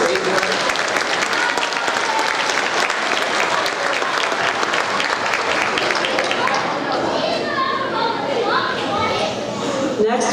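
A school audience at a seventh-grade awards ceremony applauds loudly and continuously, the clapping thinning in the last few seconds as children's chatter and voices come through.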